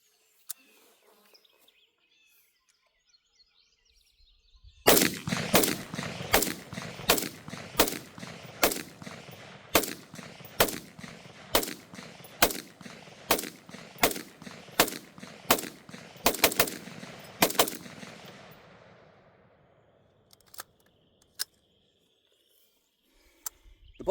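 Rifle shots from a Warhammer Armaments AR upper, a loud series of about twenty sharp cracks at a steady, unhurried pace outdoors, with faint birdsong between and a few scattered shots after.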